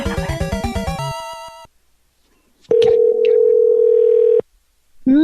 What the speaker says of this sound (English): let's make this call.